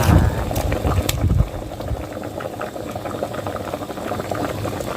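Curry with cow skin and khilek leaves bubbling at a steady boil in a pot, Isan style, a dense rolling gurgle that runs continuously, louder at first and then settling into a constant simmering churn.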